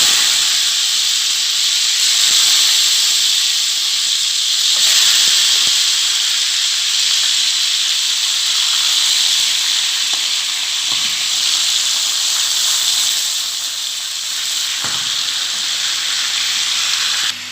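Chicken pieces sizzling in a hot pot, a loud continuous hiss of frying and steam that holds steady for the whole stretch, with faint stirring knocks underneath.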